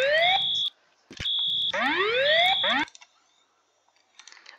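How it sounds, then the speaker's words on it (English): A Notifier whoop fire alarm tone inside a Roblox game plays as loud rising electronic sweeps paired with a steady high beep, repeating three times before it cuts off. Faint clicks follow. "Yep, it's the notifier tone. The whoop tone."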